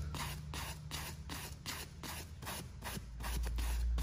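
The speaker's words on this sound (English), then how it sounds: "take your average 1000 grit sandpaper. We're gonna do this dry, not gonna do it wet." Dry 1000 grit sandpaper scrubbed across a Terminator Cobra seat, making quiet rhythmic back-and-forth rasping strokes, about two per second, close and soft, with no talking.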